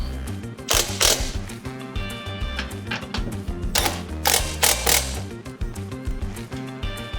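Wrench tightening the mounting bolts of an RV power tongue jack, giving bursts of close metallic clicking and ratcheting with clanks and short pauses between turns.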